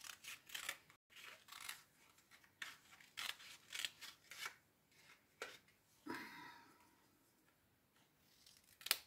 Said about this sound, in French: je vais la découper ma feuille.